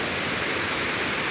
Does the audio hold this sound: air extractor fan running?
no